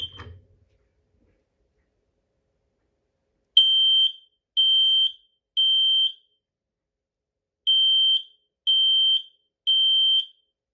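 Kidde P310L photoelectric smoke alarm sounding during a test: after a brief click, a loud, piercing electronic tone beeps in two groups of three evenly spaced pulses, close by, with no talking.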